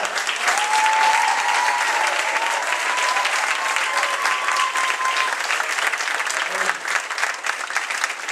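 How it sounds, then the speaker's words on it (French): A church congregation applauds in worship, loud continuous clapping filling the room, with a sustained voice or tone drifting over the clapping. "applaudit notre grand sauveur."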